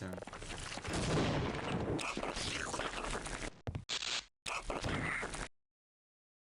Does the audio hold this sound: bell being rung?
no